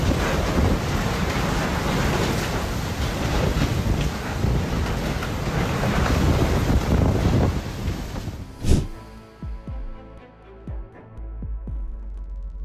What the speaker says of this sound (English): unbelievable moment as intense wind and rain from Typhoon Gami hit Taiwan